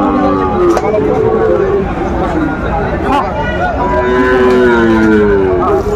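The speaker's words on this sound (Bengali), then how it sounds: "ষাঁড় বাচ্চা।" Sahiwal bull calves mooing at a cattle market in Faridpur, long loud low calls rising over constant crowd chatter and bargaining voices.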